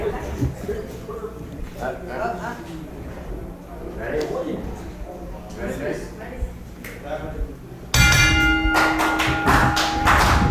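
A ring bell sounds at a women's wrestling event, clanging in several sharp, bright strikes near the end. Crowd noise and thuds fill the space before it, and a commentator talks throughout.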